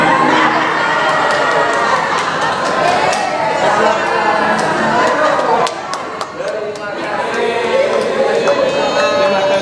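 Lively crowd of students and adults at an education forum in Central Lampung clapping and cheering, with shouts and chatter over the clapping before it briefly dips and picks up again.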